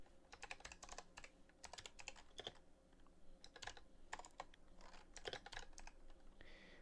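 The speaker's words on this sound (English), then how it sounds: "And I'll just type back in here." Rapid, irregular bursts of keystrokes on a computer keyboard, clacking in quick clusters with short pauses, fairly quiet and close, no voices, during a live stock-trading stream.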